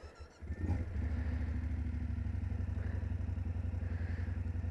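A 2018 BMW F850GS motorcycle engine, a deep steady parallel-twin thrum with rhythmic pulsing, close and loud after a brief rev at the start, with no talking over it.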